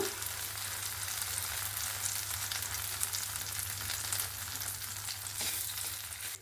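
Breakfast batter spread thick in a hot pan, frying with a steady close sizzle and crackle, with faint stirring scrapes, heard alone throughout.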